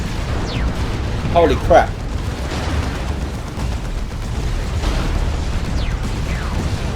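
A rocket run in Dawn of War 2, a 3v3 match, bursts into a cluster of loud explosions early on, followed by rumbling battle noise and scattered whistles and impacts; a voice briefly exclaims over it.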